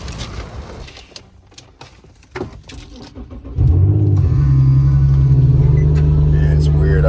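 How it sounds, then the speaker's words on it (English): An Infiniti G37, just back from a fuse problem, starts up and pulls away down a street, with faint handling noises first and then a loud, steady engine drone. "I'm gonna try to drive it down the street, see how it feels"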